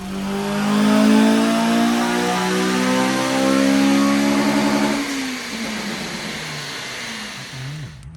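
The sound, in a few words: Honda Civic Type R engine revving on dyno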